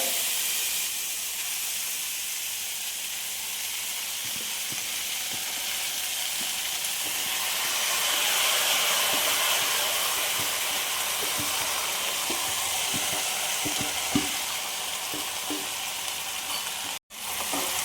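Soursop thoran frying in a pan after mustard seeds have popped, a steady steamy sizzle and hiss with scattered scraping clicks of stirring, loud and continuous.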